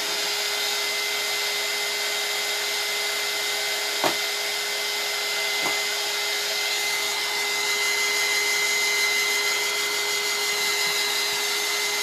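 A heat tool blows with a steady whirring drone and a constant tonal hum while drying chalk paste, running continuously at moderate level, with two faint taps partway through.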